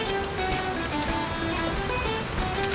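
Steady, dense roar of a waterfall beside a trail in the Dolomites, close and continuous, filling the whole moment with broadband rushing water noise and no pauses.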